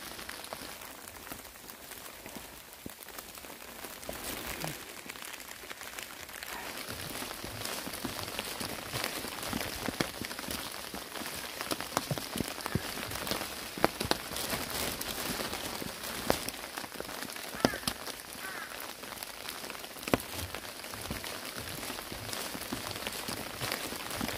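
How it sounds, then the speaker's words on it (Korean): Rain falling steadily during a mountain hike up Hallasan toward Baengnokdam, a continuous soft patter on an umbrella and surroundings with scattered closer drops, no voices. "빗소리 들리면서 좋아요."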